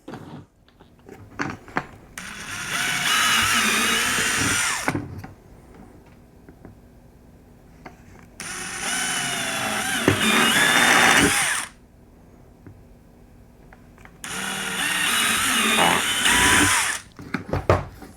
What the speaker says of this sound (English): we got to drill the hole for this wire to go through into the box